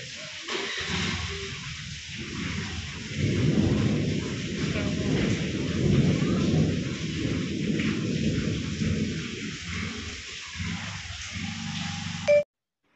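Heavy monsoon rain pours steadily while deep thunder rumbles and rolls through most of the stretch, loud and enveloping, ending abruptly.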